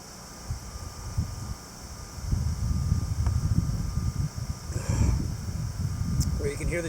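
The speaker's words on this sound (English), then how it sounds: "Well, you can hear the generator going in the background." A generator runs steadily in the background at a lakeside bush camp, pumping lake water through an immersion chiller, a low continuous drone with wind-like rumble throughout.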